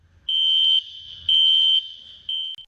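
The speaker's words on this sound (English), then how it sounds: "The fire alarm sounds like this." A building fire alarm sounds three loud, steady high-pitched electronic beeps, each about half a second long with short gaps between, clear and alone.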